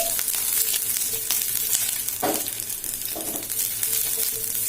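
Garlic for a fenugreek leaf chutney frying in a pan, a loud steady sizzle close by with a couple of brief stirring scrapes, no talk.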